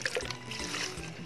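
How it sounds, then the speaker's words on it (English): Water runs and splashes steadily as objects are rinsed during a float-or-sink density experiment, a continuous close trickle with light bubbling, brief and fairly quiet. "Let me wash for a little now."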